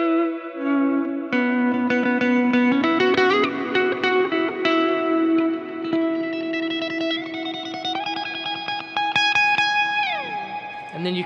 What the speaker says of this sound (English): You can still hear that pick attack.